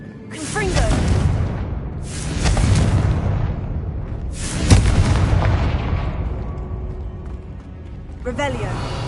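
Confringo blasting spell explosions in the wizarding game Hogwarts Legacy: three or four loud booming blasts with whooshing decay, spaced a couple of seconds apart, each fading into rumbling tails.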